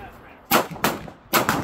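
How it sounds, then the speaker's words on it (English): Large-caliber machine gun on a tripod firing three sharp, heavy reports in quick succession, loud and close, with short gaps between the bursts. "Here's an example of a larger caliber weapon. Look at the power that this thing has."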